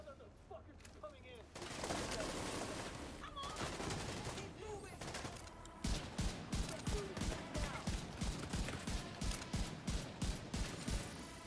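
Gunfire in The Division 2 video game: a rapid, evenly spaced string of loud shots fills the second half, after earlier scattered bursts and other game effects, with someone talking over parts of it.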